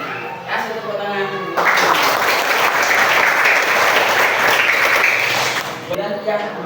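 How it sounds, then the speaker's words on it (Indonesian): A classroom group bursts into loud, sustained applause lasting several seconds after a group discussion report, with a voice talking briefly before it starts and again as it fades. "Kasih tepuk tangan"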